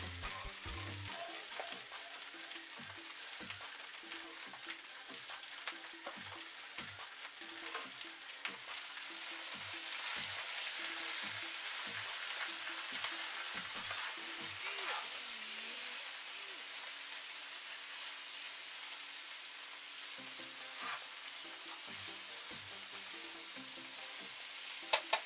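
A spaghetti squash dish cooking in a pan, a steady close sizzle and crackle of frying that continues throughout, with occasional low knocks of stirring.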